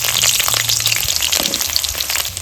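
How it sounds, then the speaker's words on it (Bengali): Potato pieces frying in oil left over from lentil fritters, a loud, dense, crackling sizzle that runs unbroken and close throughout, with no talking. "এই বড়ার তেলে আমি আলুটা ভেজে নিচ্ছি।"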